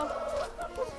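Farm chickens clucking close by in a short burst of several quick, overlapping calls on a Kosovo cattle farm.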